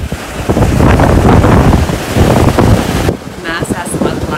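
Atlantic Ocean waves rush and churn against the cruise ship Costa Pacifica, loud and gusty with wind buffeting the microphone, before a voice speaks briefly near the end.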